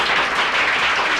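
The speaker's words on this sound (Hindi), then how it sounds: "चलो जोरदार तालियां हो।" A short, loud burst of dense applause from an audience at a school prize distribution, a continuous roar of clapping with no pauses.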